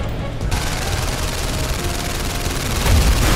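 Dense, rapid gunfire from the VR heist shooter London Heist rattles on steadily at close range, with a heavier thudding burst near the end.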